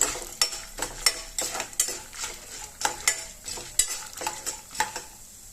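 Urad dal and peanuts frying in oil over medium flame for a drumstick-leaf chutney, with a steady soft sizzle beneath repeated scraping strokes of a spoon stirring in the pan, about ten even sharp scrapes, close up and with no voices.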